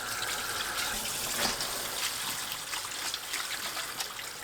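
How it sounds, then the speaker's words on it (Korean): Mallow leaves are rinsed by hand under a running kitchen tap, with steady splashing water and soft intermittent rustles and splatters of wet leaves, close by. "아욱을 씻어줍니다."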